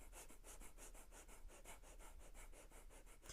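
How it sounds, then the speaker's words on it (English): Short, rapid nasal breaths in a pranayama exercise through one nostril, a steady quick series of sharp sniffing puffs, close and faint, with no talking. "you're going to be breathing in short breaths"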